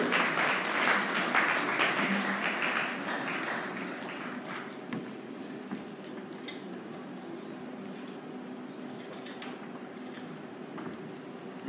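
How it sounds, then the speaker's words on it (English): An audience at the 53rd annual bankers dinner applauds, the dense clapping starting full and gradually thinning and fading to a quieter patter over several seconds. "Come, please give him a round of applause."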